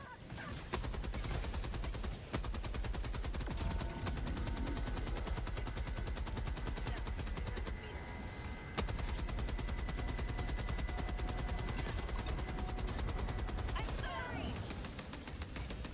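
Sentry gun firing in the video game Helldivers 2, a dense continuous rapid burst of automatic gunfire with explosions and battle noise, loud, with players talking over it.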